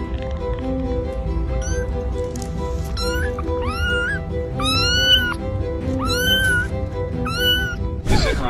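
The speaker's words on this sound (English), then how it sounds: "This is how a human gets adopted by a cat." A cat meows several times in a row, clear rising-and-falling calls standing out over a steady background music bed.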